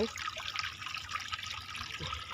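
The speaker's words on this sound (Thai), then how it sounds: "บรรยากาศน้ำไหลในป่าพี่น้อง" Water flowing through a forest, a continuous soft trickling and rushing stream heard at a modest distance, steady and unbroken, with no voices.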